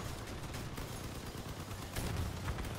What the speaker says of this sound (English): this guy's laying some shots